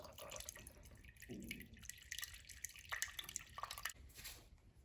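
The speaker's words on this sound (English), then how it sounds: "So we're going to drain that water from your cold spout." Faint water trickles and drips irregularly from the cold spout of an Avalon water cooler being drained, quiet and close, with small splashing sounds and no talking.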